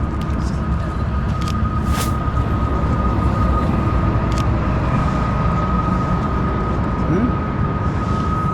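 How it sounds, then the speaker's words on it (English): A steady low rumble of a train rolling by at a distance through the Spiral Tunnels at Kicking Horse Pass, British Columbia, with a faint sustained tone and a few brief clanks over it. "Train's coming and going."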